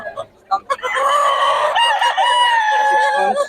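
A young gamecock stag crows loudly and close by in one long, wavering call, with a brief cluck just before it at a gamefowl gathering.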